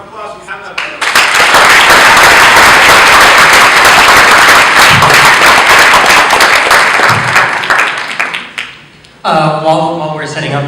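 Loud, dense applause from an audience at a national organizers' conference, sustained for about eight seconds, dipping briefly before a voice speaks over the room.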